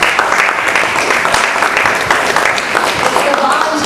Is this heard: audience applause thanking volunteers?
yes